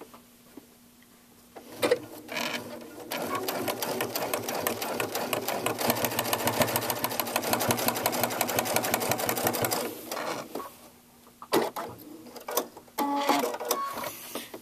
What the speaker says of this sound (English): No problems that I can see, sewing this many thicknesses of fabric.